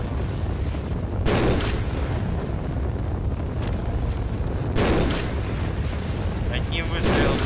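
Two sharp gunshot blasts from a video game, several seconds apart, each with a booming tail, over steady wind-like background noise.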